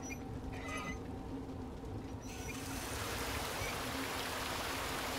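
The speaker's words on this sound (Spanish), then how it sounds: "Aquí abrimos el agua." Water switched on in the police station in Resident Evil 2 Remake, a steady broadband rushing flow that swells in after a couple of seconds and keeps running evenly.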